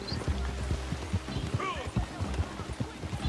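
Horse hooves galloping in Red Dead Online, a quick steady rhythm of thudding beats running the whole time, with game voices and a short whinny-like sound partway through.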